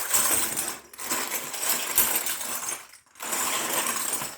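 Small brass cartridge casings rattle and clink together continuously in a container of rinse bath, with a brief pause before the jingling resumes.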